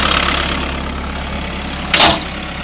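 Steady low engine idle from a 2006 Bobcat S160 skid steer, a constant close rumble with a brief louder burst near the end, no one talking.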